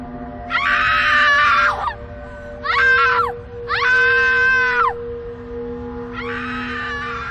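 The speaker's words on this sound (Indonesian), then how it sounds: "Sewaktu melihat mayat abangnya, adik perempuan Kinana menjerit histeris." A woman screams hysterically in a dramatized scene, four long loud wailing shrieks separated by short pauses, close and dominant over a faint steady background hum.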